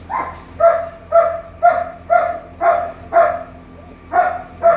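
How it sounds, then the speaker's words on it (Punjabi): A dog barking at newcomers lets out about eight loud, evenly spaced barks at close range, each short and sharp, with no talking over them. "ਨਵੇਂ ਬੰਦੇ ਆਏ ਆ ਬਈ ਉਹਦੇ ਕਰਕੇ ਡੌਗੀ ਆ ਜਿਹੜਾ ਬੋਲਦਾ ਪਿਆ ਆ"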